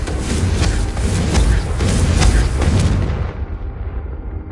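The Confringo fire spell bursts in the Hogwarts Legacy video game, a dense rumbling explosion with several sharp booming hits that roars loudly for about three seconds and then trails off into a duller rumble.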